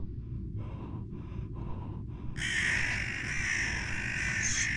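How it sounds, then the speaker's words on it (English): Crows cawing in a horror video game, a harsh bright chorus of calls that swells in after a quieter stretch and carries on loudly over a low rumbling background. "Stupid crows!"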